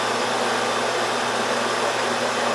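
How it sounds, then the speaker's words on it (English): A bandsaw cuts through metal rail with a steady, loud whirring drone and a constant hum, even throughout with no pauses or talking. "Look what a nice smooth cut that bandsaw made."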